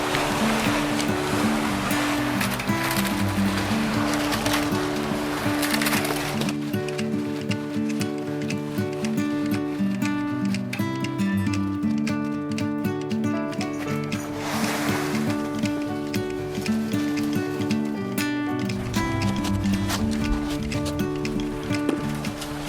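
A cement mixer turns a batch of concrete on a DIY porch slab job, giving a continuous loud churning rumble with a steady mechanical hum and a swishing, sloshing wash that surges and eases, no voices over it.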